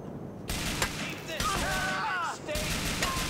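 Bursts of rapid gunfire in Grand Theft Auto IV, repeated loud shots and crackling volleys over a shouting voice.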